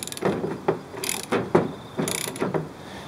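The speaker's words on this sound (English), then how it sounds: "This piece at the end here is a 7/8, and we could just use a regular ratchet." A regular ratchet works a 7/8 bolt on a car control arm, giving about seven distinct clicking strokes in an uneven rhythm, close and clear.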